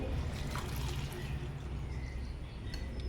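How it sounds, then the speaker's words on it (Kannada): A cup of water poured into a pot of tomato rasam, a soft, steady splashing trickle lasting a few seconds at low volume, alone without talk. "ನಾನಿವಾಗ ಇದಕ್ಕೆ ಒಂದು ಕಪ್ಪಿನಷ್ಟು ನೀರನ್ನು ಸೇರಿಸ್ತಾ ಇದ್ದೇನೆ"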